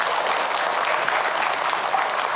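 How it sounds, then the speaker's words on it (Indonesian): An audience at an Islamic lecture claps steadily, a dense and even burst of applause that fills the short clip from start to finish. "Tepuk tangan buat beliau."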